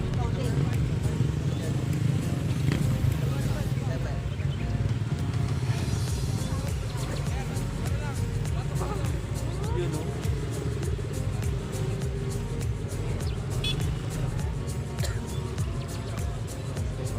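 Police-organised riders' network motorcycles in Lingayen, Pangasinan rumble steadily in a continuous low drone of idling and passing engines, with crowd chatter and talk running over it throughout.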